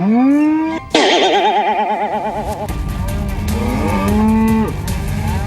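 A water buffalo ridden by a news reporter in Pakistan lets out loud, drawn-out lows close by, with further calls over background bustle and traffic noise.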